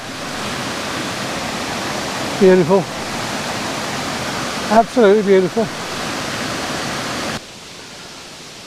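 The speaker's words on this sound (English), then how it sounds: "There's the waterfall." A waterfall pours down toward a river in a scenic spot, producing a steady, loud, broadband rush of falling water; someone briefly speaks over it twice before the roar drops away near the end.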